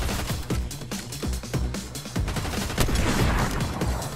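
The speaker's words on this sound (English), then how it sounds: "Sniper hit. Sniper shot to the head." Rapid gunfire bursts from a Fortnite match, a sniper rifle shot among them, sounding as sharp repeated cracks with booming low thuds, loud and close, with no talking.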